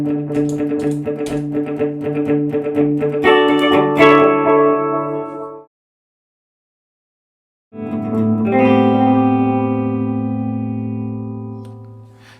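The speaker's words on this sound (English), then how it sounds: "it's pretty loud, and it's kind of almost an analog delay" Electric guitar played through a Keeley Eccos delay pedal set to a loud, analog-style delay, with chords and notes smearing into repeating echoes, a sudden two-second silence, then a sustained chord swelling and trailing off.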